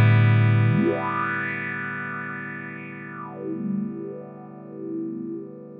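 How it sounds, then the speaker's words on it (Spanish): Guitar through an Earthquaker Devices Spatial Delivery filter pedal swept by hand like a wah, one sustained note whose tone rises, falls and wavers in slow vocal-like sweeps. "Sí, como mover un wah-wah a mano."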